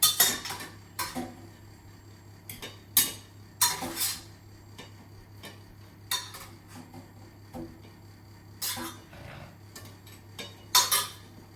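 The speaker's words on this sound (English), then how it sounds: "we'll mash them within the potato masher" Cooked potatoes for shepherd's pie are pressed with a potato masher in a pot, giving irregular metallic clanks and soft squashing knocks in short bursts, close and clear over a faint steady hum.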